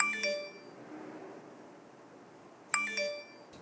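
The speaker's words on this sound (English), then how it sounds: "It'll send out push notifications." Two bright chiming notification alerts from a home automation app that controls a thermostat, one at the start and one near the end, each ringing out briefly against quiet background hiss.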